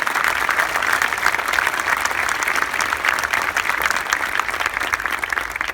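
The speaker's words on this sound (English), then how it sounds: "let's give them a big round of applause if you don't mind" Steady crowd applause for the staff at Los Angeles National Cemetery during a ceremony, a broad continuous wash of many hands clapping without pause throughout.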